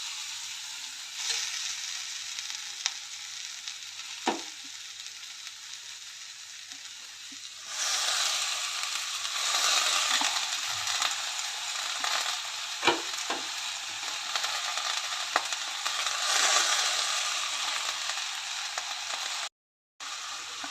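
Fenugreek leaves with masoor lentils fry in a pan with a steady close sizzle that swells midway, with occasional stirring scrapes and knocks.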